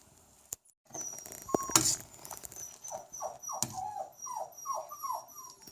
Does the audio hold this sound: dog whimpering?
yes